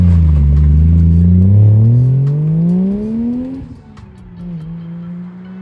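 Raspy exhaust of a Toyota Chaser JZX100 with a 1JZ engine, loud and close, revving up steadily and then dropping back toward idle.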